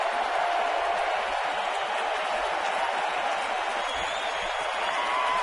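A packed, standing-room-only baseball stadium crowd roaring during an ALDS playoff game, a steady, loud wash of cheering that fills the whole span without letup.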